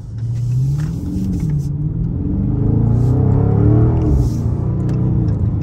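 A widebody Scat Pack's powerful engine rumbles deep and loud at night, revving up as the car accelerates, its low growl rising and falling in pitch.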